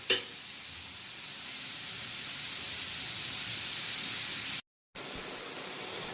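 Chopped onions frying in oil in a pan for mutton curry over low to medium flame give a steady, even sizzle that holds at moderate level throughout, with a soft stir scrape near the start and a brief dropout near the end.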